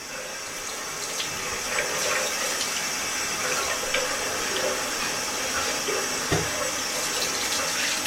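Water running continuously from a tap into a sink during ablution, a steady close splashing hiss with brief louder splashes as hands move through the stream.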